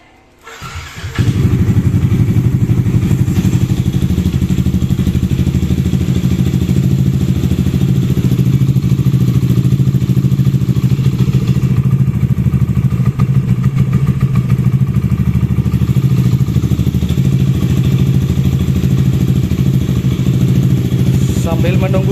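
A bored-up scooter engine, fitted with an anti-overheat 65 bore-up kit, cranks and fires, then idles loudly and steadily at close range with a deep, even throb for the rest of the stretch.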